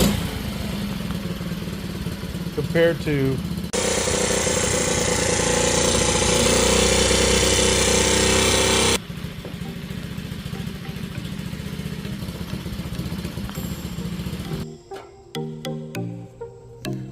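A refreshed 2004 Pantera 50cc minibike engine runs steadily close by, its small motor chattering at idle and then revving louder for several seconds before settling back, with a brief spoken phrase near the end.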